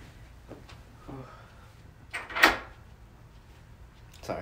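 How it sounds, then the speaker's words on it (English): A door being locked indoors: faint shuffling and soft knocks build to one sharp, brief metallic clack of the lock, then a quieter knock after, all at close range with no talking. "I just had to lock my door"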